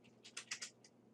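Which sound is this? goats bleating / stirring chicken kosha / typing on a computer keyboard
typing on a computer keyboard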